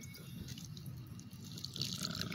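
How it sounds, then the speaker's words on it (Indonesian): Water poured from above onto the soil of a freshly transplanted mint plant, a steady close trickle and splatter with a brief louder gush near the end, no voices. "Kemudian baru kita siram dengan air ya."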